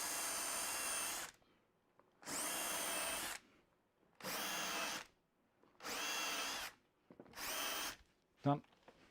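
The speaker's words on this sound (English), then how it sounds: "So we'll countersink this." A power drill countersinks a hole in a workshop jig for a Festool Domino, running in five loud, close bursts of about a second each with short quiet gaps, then a brief clunk.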